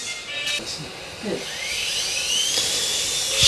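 A remote-control toy helicopter flying nearby, its small motor giving a high, steady whine that rises in pitch as it speeds up, loud and continuous throughout.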